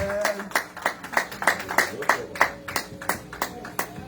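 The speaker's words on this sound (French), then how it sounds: "avec l'assemblée, on a demandé à applaudir mon jeune" A church congregation in Orlando claps in a steady rhythm, about three sharp, distinct claps per second, fairly close and moderately loud.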